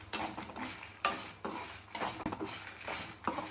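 Chillies sauté in a pan for a spicy Chettinad chicken curry, with a utensil stirring and scraping in repeated strokes roughly every half second over a soft sizzle, close and clear.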